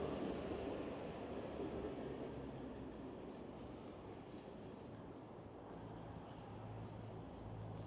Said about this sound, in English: That's an Up Express train.